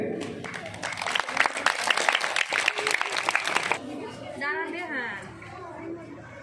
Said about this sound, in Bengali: তোমরা করতালি